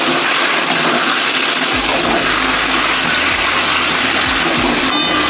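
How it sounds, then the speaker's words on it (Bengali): Boiled potatoes are fried with spices in a pan, giving a loud, dense, steady sizzle and hiss throughout, with low rumbling thumps from stirring in the second half. "আলুটা মশলার সঙ্গে কষিয়ে নেব।"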